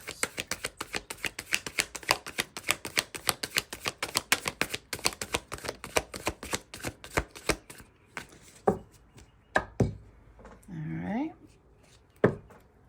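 A deck of tarot cards is riffle-shuffled in quick rhythmic bursts of crisp, close snapping, thinning to a few separate slaps, with a voice speaking briefly near the end.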